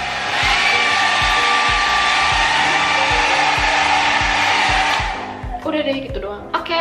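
Kris Travel 600 W hair dryer on turbo mode, a loud, steady close-up whoosh of the motor and airflow for about five seconds, then it cuts off and a voice speaks briefly.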